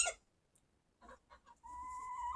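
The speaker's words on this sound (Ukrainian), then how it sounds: "А чуєте, як чхають." A few short, sharp sneezes from sick chickens, quiet and close, followed by a steady thin tonal call against a soft background.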